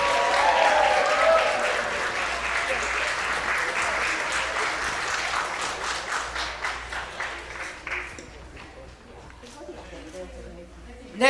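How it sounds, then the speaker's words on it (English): Wedding reception guests applauding: a loud, sustained round of clapping from a room full of people that thins into scattered claps and fades near the end, with a brief loud bump at the close. "Let's get another big round of applause for Abby and Danny."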